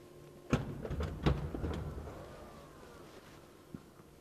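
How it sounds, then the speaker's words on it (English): A 2027 Audi SQ9 SUV's doors open after the unlock button is held, giving two sharp clunks close together, softer mechanical whirring and latch sounds, then a faint click. "So if you press and hold the unlock button, all the doors will open."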